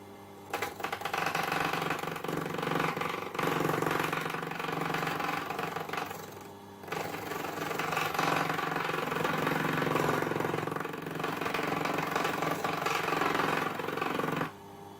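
A lathe spins a sphere being turned on it, giving a steady, loud mechanical whir and motor hum that runs almost unbroken from start to finish, with a brief dip partway through.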